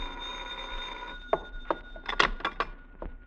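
Old-fashioned telephone bell for a mystery radio drama, ringing in several short bursts at moderate loudness over a faint steady hum, with no talking.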